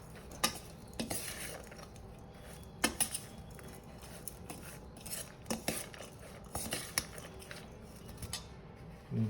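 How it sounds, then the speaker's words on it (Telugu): A spoon scrapes and clinks against a bowl while a vegetable salad with homemade masala is tossed, giving soft irregular taps and rattles, quiet and close, with no talking. "వీటిలన్నిటిని బాగా మిక్స్ చేసేసి"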